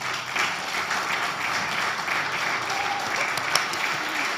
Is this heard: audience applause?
yes